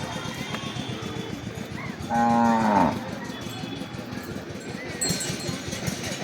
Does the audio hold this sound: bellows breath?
no